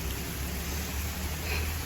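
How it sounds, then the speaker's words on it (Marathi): Heavy rain falls steadily as a dense, even hiss that fills the short stretch without any break or distinct drops. "पाऊस पण तुम्हाला दिसतच असेल"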